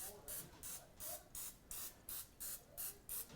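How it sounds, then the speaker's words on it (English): Pam cooking spray is misted over decorated cookie dough in eight quick, even hissing bursts with short gaps between them, close and fairly quiet. "spraying them with a little Pam like this will make your jimmies and sugars stick to the dough"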